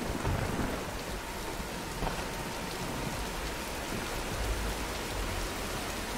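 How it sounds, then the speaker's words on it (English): Heavy thunderstorm rain in the video game Tomb Raider, a dense steady hiss of downpour with low rumbling thunder underneath, loud and continuous throughout with no voices. "Nah, let's wait out the storm."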